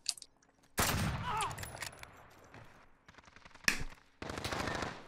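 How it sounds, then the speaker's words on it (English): Bursts of automatic gunfire from the Call of Duty Modern Warfare video game in Search and Destroy mode, loud rattling volleys starting near the one-second mark and again toward the end, with quieter game sounds between. "What are we shooting at?"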